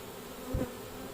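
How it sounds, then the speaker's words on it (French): A honeybee from a swarm being gathered with a pole at Combs-la-Ville buzzes past close by, one short swelling drone rising out of a faint steady hum and fading again. "Allez les petites abeilles."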